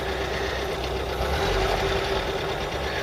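A Ford MK3 Cortina Estate engine idling at a low tick over with the carburettor mixture screw adjusted, a steady low rumble with a faint regular ticking and a thin whine, moderately close.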